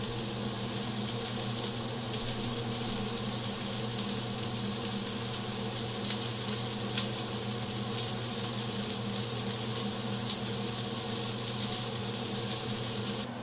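Beef pepper steak sizzles steadily in a hot pan, a continuous close frying hiss with faint crackle that holds an even level throughout, with no talking.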